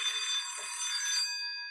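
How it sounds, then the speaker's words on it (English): An alarm goes off during a meeting, a loud, steady high-pitched electronic tone sounding continuously, near and alone without talk. "An alarm happened."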